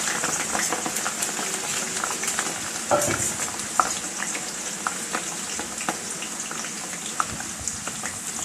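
Potato chips frying in hot oil at home, giving a steady, close sizzle with small crackles and occasional stirring clicks throughout.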